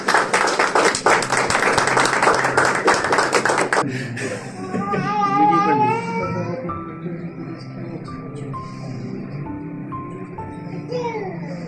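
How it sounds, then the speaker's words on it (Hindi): A church congregation at an ordination service for an elder and evangelist claps loudly for about four seconds. The clapping then stops abruptly and voices and sung or drawn-out vocal tones follow. "बहुत सारी तालियां इनके लिए।"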